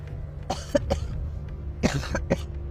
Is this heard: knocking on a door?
no